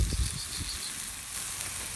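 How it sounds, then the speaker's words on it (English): A chicory-rubbed Wagyu London broil sizzles in a pan with a continuous close crackle and a few low thumps near the start, and no voices. "just listen to it sizzle."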